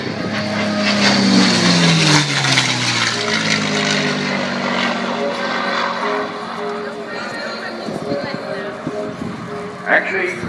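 WWII long-range fighter escort with a 1,760 horsepower Merlin piston engine, flying at an airshow: a loud propeller-engine roar with a falling Doppler pitch as it passes, then fading. A commentator talks over it throughout.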